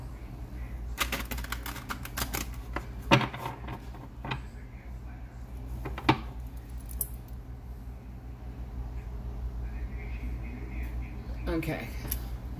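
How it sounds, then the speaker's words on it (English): A deck of Everyday Witch Tarot cards is shuffled by hand, giving a close, continuous papery rustle broken by sharp snapping clicks at irregular moments. "One more shuffle."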